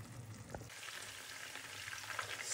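Chicken inasal frying in a pan gives a steady, soft sizzle with a brief stir or turn near the start, continuous and fairly quiet, with no voices.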